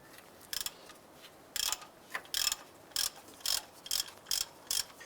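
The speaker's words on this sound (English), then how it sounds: "We use a 17mm socket and ratchet. I'm going to go ahead and loosen this bolt." A ratchet with a 17mm socket works an engine mount bolt on a 2001-2005 Honda Civic, giving repeated bursts of crisp clicking in a steady rhythm, close and fairly quiet over a low background.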